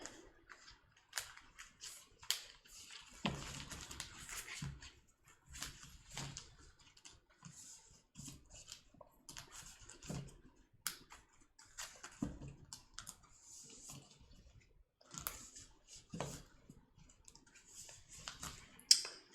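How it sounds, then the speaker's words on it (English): KeyForge cards being shuffled at a tabletop game session, a run of soft riffling clicks and light card slaps repeating unevenly, close and quiet, with no talking. "I'm going to shuffle"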